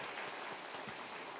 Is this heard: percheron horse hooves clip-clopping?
no